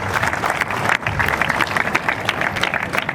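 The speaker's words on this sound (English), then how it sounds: "Let's give them a big round of applause." Applause from an audience at a school investiture ceremony, dense continuous clapping from many hands, steady and fairly loud throughout.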